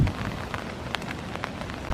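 Rain falls on a foggy morning at Iroquois Park as a soft, steady patter with scattered sharper drops over a low wash of background noise, with no voices.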